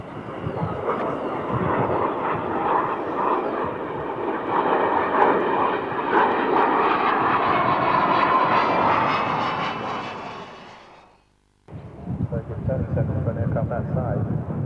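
An RAF Nimrod with Rolls-Royce Spey jet engines flies past at an airshow, its loud, sustained engine roar heard under a commentator's voice. The sound breaks off abruptly and then resumes.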